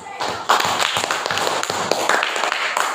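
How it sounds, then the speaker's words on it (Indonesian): A classroom group of students clapping for Group 3, a quick, close burst of handclaps over about three seconds with a few voices mixed in. "Tepuk tangan buat kelompok"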